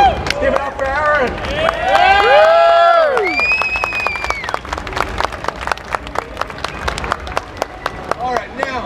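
An audience at a Gunpla Builders World Cup event in Australia claps and cheers for a performer, with a crowd's whoops and rising applause mixing with loud singing and shouted voices nearby.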